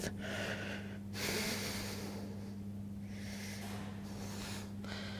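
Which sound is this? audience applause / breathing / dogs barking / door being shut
breathing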